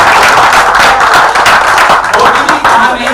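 Loud, continuous clapping from an audience at a Hindi poetry recital, dense and steady throughout with crowd noise and voices mixed in.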